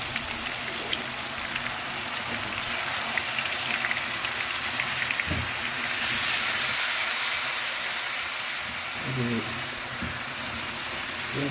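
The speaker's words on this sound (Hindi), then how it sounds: "चलो जी अब हम इसको भून लेंगे" Masala with coriander, mint and turmeric fries in a pan, giving a steady close sizzle and hiss throughout, with a few stirring scrapes and a brief swell in the middle.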